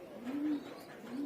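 A breeding pair of pigeons cooing softly, two low, smooth coos a moment apart, faint and close in a quiet space.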